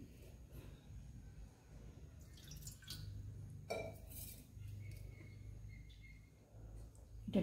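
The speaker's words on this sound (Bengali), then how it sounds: "একটু জল দিয়ে দিই।" Water added to a simmering Bengali ash gourd curry in a pan. A faint, brief splash and sizzle sits over quiet kitchen background.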